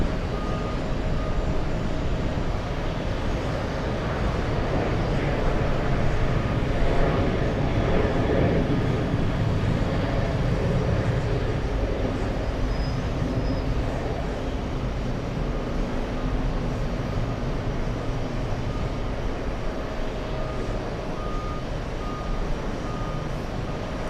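An Emirates airliner being pushed back at JFK airport, heard as a steady distant roar of jet engines and ground vehicle rumble with a faint repeating beep, continuous ambient noise throughout.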